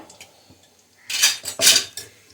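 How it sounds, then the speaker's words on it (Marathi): Fox nuts (makhana) being roasted with ghee in a pan, two bursts of rattling and scraping as the light nuts are tossed and stirred against the metal, close and clear, with no talk. "सगळ्यात आधी हे मखाने भाजून घेते"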